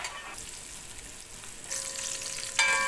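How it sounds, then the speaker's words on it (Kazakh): Chopped beef fat rendering in a kazan for plov, a close steady sizzle that grows louder in bursts, with a faint metallic ring near the end. "Осылай майдалап турап аламыз және қазанымызға салып шыжғырып аламыз"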